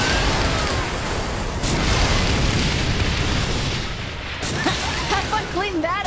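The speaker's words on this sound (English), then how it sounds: "See how much better these things go when you have a rocket launcher?" Rocket launcher blasts in Saints Row: The Third, dense roaring explosion rumble filling the clip with a couple of sharper bursts, then fading into a crackling tail with whistling debris near the end.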